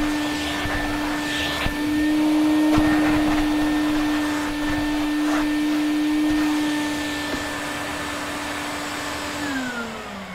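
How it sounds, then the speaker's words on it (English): A water trap vacuum cleaner runs steadily and loudly, a constant whining motor drone with a strong sustained tone that winds down slightly near the end, with no voices. "When you use the water trap vacuum"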